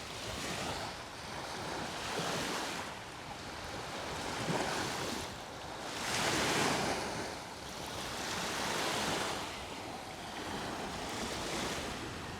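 Ocean waves wash onto a beach in slow, steady surges that swell and recede every few seconds, with a constant wind-like hiss beneath and no voices.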